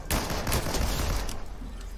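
Rapid gunfire bursts in the Fortnite video game, loud and close, crackling in a dense volley across two seconds with no speech over it.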